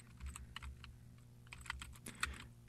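Quiet, close typing of code on a computer keyboard, a quick irregular patter of keystrokes over a faint steady hum.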